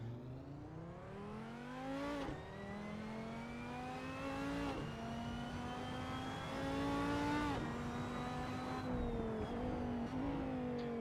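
A race car engine in Assetto Corsa climbs repeatedly through the revs, each rising pitch sweep cut off by a quick gear change, in a steady sequence of upshifts with a constant whir underneath and no talking.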